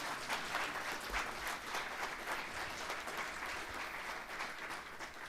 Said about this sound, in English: round of applause again for the MEC